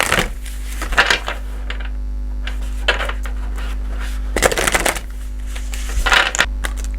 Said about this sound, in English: I'm going to start by shuffling these Sea Oracle cards